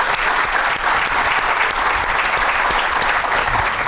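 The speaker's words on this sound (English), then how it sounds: "Let's give them a round of applause" A symposium audience on financial inclusion breaks into loud, dense, sustained applause, a continuous wash of many hands clapping close by for the full few seconds.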